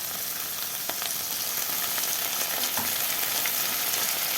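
Chicken pieces sizzle steadily with onions in a hot pan over high heat, a dense, continuous frying hiss close up with faint crackles and light stirring, no voices.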